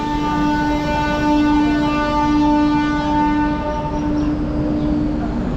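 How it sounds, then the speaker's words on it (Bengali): A DEMU train sounds a loud, sustained horn close by, holding one steady tone for several seconds, with the rumble of the departing train underneath as the blast fades near the end. "এই হর্ন দিয়ে দিল।"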